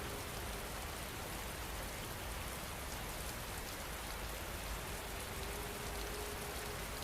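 Steady, even rain falls continuously on a surface, a dense unbroken hiss of drops with no pauses or other sounds.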